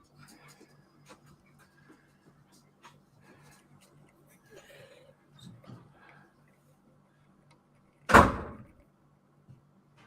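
A front door bangs shut once, loud and sudden, standing out from a quiet indoor room with faint scattered small noises and soft movement before it.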